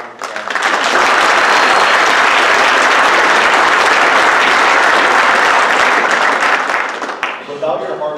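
Sustained applause from a banquet audience for standing honorary degree recipients at an FFA chapter banquet: loud, dense clapping that swells in quickly, holds steady for several seconds, then thins near the end with some voices mixed in.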